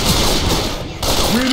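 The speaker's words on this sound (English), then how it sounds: "Would you mind not shooting?" Rapid gunfire in the zombie shooter Left 4 Dead 2 rattles as a loud, continuous automatic burst, with the game's character voices speaking over it.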